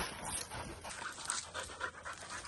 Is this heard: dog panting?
yes